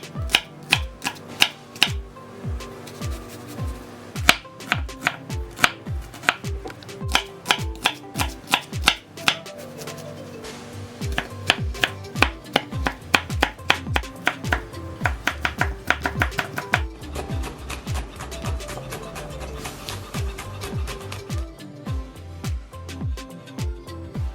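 Knife chopping spinach, green chillies and red onion on a board, a long run of rapid, crisp, evenly spaced blade strikes with brief pauses, close and clear with no talking.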